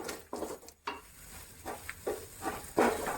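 Mint mixture sautéing in oil and ghee for pudina rice, a quiet sizzle with intermittent stirring scrapes and soft clinks of a spoon against the pan, no talking.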